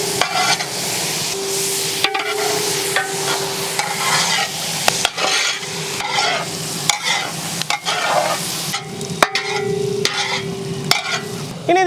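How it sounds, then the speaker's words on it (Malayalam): Sliced onion sautéing with salt in a pan for a whole giant fish curry, steady sizzling broken by repeated scraping stirs and sharp utensil knocks against the pan, close and continuous. "നമ്മുടെ സവാള ഒന്ന് പെട്ടെന്ന് വേണ്ടിയിട്ട് കുറച്ച് ഉപ്പിട്ട് കൊടുക്കാട്ടാ"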